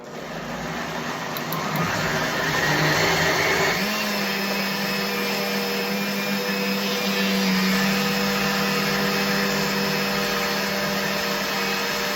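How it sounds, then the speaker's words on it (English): A blender whirs steadily as it purees mango pudding with about three bananas for a soft diet, the motor pitch settling lower and holding a continuous loud drone once the thick mixture catches. "Put the lid on, we'll blend it up."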